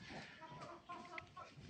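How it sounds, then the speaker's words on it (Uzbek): Newly hatched chicks and hens cluck and cheep softly at close range in a quiet, uneven chatter. Faint rustling runs underneath. "Endi hozir jo'jalarni ko'rsataman."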